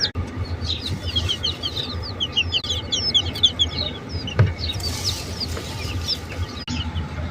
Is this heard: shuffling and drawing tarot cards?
no